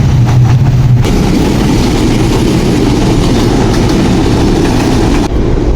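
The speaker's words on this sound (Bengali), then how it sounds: "নিচ দিয়ে ট্রেন যাচ্ছে" A train rumbles past close by under a flyover in Rajshahi, a steady loud roar with low rolling rail noise throughout, heard from above.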